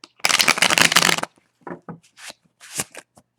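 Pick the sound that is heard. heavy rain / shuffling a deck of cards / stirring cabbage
shuffling a deck of cards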